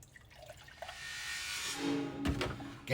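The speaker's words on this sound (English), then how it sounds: "It's time to get some milk to pour it in." Milk pours into a JURA milk cooler container, a soft, building liquid splash that swells over a couple of seconds, with a brief clatter near the end.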